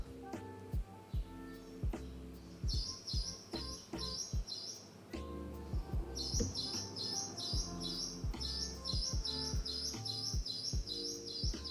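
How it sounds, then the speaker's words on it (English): A bird chirps loudly and repeatedly close to a microphone, in clusters of bright high tweets across the whole stretch, over steady indoor background hum and occasional clicks. "Can you guys hear the bird?"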